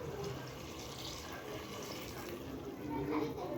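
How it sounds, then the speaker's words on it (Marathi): About a litre of water poured into a pressure cooker over rice and chopped coriander for masale bhat, a short steady gushing splash close by, swelling slightly near the end. "त्याला 1 लिटर पाणी टाकून घ्या."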